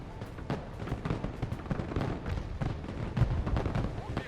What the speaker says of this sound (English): they're actually bringing snipers in, and they're bringing mortars in